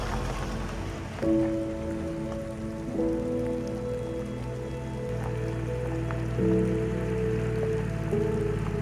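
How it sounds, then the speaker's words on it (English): Rain falls steadily on an expedition trail with 4x4 vehicles nearby, a soft continuous patter under a low hum and faint tonal sounds, with no voices. "The first trails greet us with rain"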